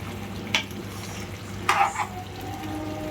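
Chicken and broad bean curry is stirred in a pan. Two or three brief spoon scrapes against the pan stand out over a low, steady simmer, close and fairly quiet, with no voices.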